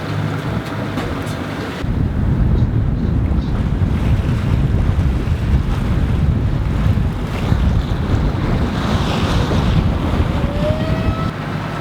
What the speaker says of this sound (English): A little bit of breeze, still motor sailing.